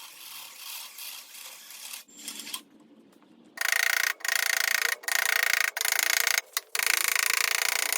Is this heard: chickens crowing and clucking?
no